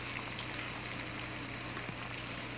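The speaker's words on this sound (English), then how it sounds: "Can you hear him frying, sizzling, cooking?" Food sizzles steadily in a hot pan at close range, with a constant crackling hiss and faint pops.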